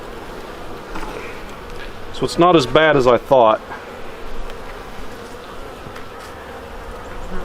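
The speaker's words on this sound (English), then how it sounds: "there's so many bees in here" Honey bees buzz in and around an opened hive in winter, a steady close hum under a voice briefly speaking.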